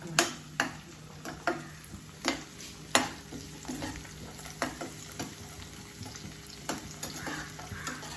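Squid roast frying over a high flame in a pan, a faint constant sizzle punctuated by regular, evenly spaced spatula taps and stirs, without speech.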